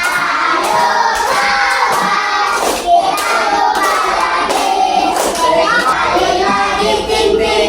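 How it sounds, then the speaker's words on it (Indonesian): Class of children in an Indonesian school clapping their hands after singing, with several sharp, fairly loud claps and some irregular group clapping, under children's voices and classroom noise. "tepuk tangan kalian semua"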